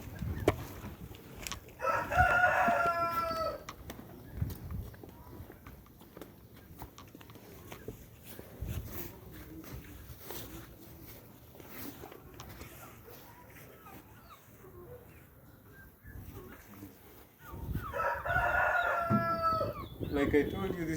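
Chickens and roosters on an integrated farm with free-ranging birds crow loudly in two bursts, one near the start and one near the end, with quieter clucking and farmyard noise and people talking in between.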